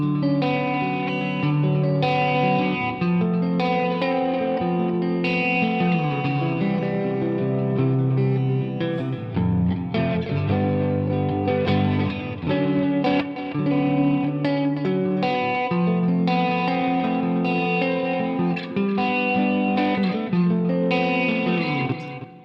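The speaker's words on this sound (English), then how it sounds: "So now the delay is getting reverb." Continuous processed guitar-like music with echoing repeats trailing each note, washed in spacious reverb, steady and fairly loud throughout.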